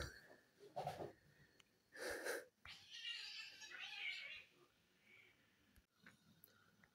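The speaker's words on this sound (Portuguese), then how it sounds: "tá quebrando pau com o gato" A cat scuffling and running about, with bursts of hissing and yowling-like noise in two loud spurts followed by quieter scrabbling and rustling, fairly close.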